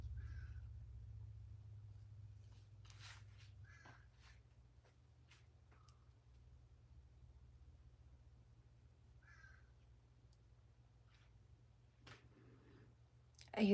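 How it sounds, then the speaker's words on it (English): A crow caws several times in the background, short faint calls spread across the clip over a low steady hum, with soft clicks and scattered movement noise. "No, that's a crow"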